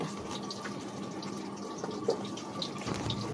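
Water is poured from a mug into a barrel lying on its side, making a continuous close splashing trickle with small gurgles.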